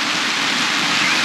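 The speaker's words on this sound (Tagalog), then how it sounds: "Ang lakas ng ulan sa labas" Heavy rain pours steadily outside a Nature Hike tent during car camping at River Ranch in Tanay, Rizal, a loud, dense, unbroken hiss close around the shelter.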